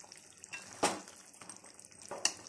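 A spatula stirs mutton curry with thick gravy in a pan, producing a soft wet bubbling with two sharper scraping clanks against the metal.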